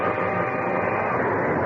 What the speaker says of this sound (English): train is stopping at the canyon now.